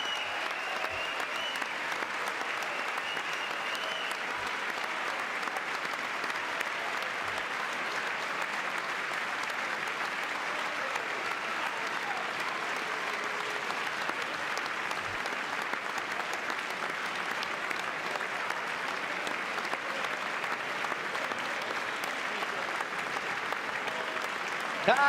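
Audience applause after a political speech, sustained and even clapping from a large crowd that continues steadily without a break and sounds somewhat distant.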